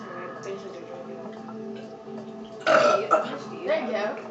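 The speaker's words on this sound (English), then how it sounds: "Wow, that was a big burp, but it was all air." A big, airy burp erupts partway through, loud and drawn out after quieter moments, during a playful family burping contest with chatter and voices around it.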